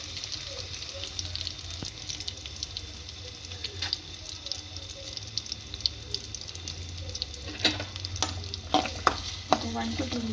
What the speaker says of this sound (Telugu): ఇప్పుడు అదే కడాయిలోకి ఆయిల్ వేసుకోండి. నూనె వేడయ్యాక ఆనియన్స్ వేసేయండి.